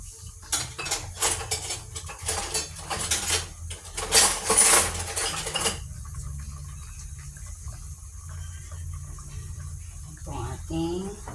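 Metal utensils clattering and scraping against a cooking pot while peanut butter is added to pork kare-kare, a busy run of clinks and knocks that stops abruptly, leaving a quiet low hum.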